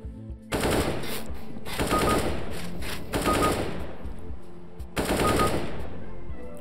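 Rapid automatic gunfire from CS:GO, loud and close, coming in three or four dense bursts separated by short pauses, with no talk over it.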